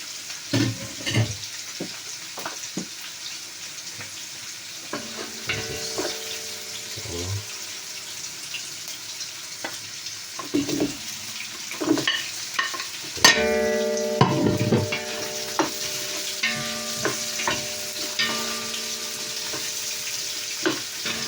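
Garlic and pork stirred in a hot pan, a continuous sizzle broken by repeated scraping and clanking of the utensil against the pan, with occasional louder knocks and a brief running-water sound partway through.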